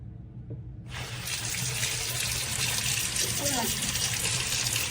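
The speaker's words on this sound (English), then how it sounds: "So when your kids can't reach the faucet, you cut the noodle and you divert the water so it can go closer" Faucet water runs through a cut pool noodle into a sink, a steady close gush that starts abruptly and keeps flowing.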